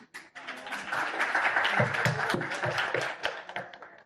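An audience claps together in a dense, steady burst of applause that swells and then trails off over about four seconds, with no voices over it.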